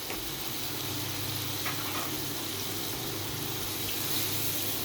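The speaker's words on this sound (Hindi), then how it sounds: "इनको हम अच्छी तरह भून लेंगे।" Chopped green chillies, cumin and dried coriander seeds sizzle steadily in hot oil in a pan, a close, dense, continuous frying hiss with faint stirring and no talk.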